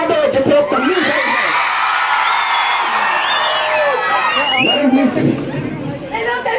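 A large crowd of students at an educational event in Anantnag, Kashmir, shouts, whoops and cheers loudly and continuously, with many overlapping voices filling the whole stretch.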